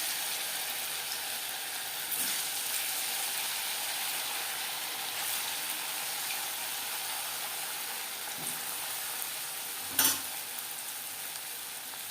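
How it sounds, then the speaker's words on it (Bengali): Moong dal puli pitha, filled dumplings, frying in hot oil with a steady, even sizzle throughout, a few faint clinks and light stirring noises on top, and one brief sharp clatter near the end. "এইভাবে প্রত্যেকটা পুলি পিঠা ভেজে নেব"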